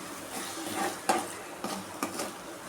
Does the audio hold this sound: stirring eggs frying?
yes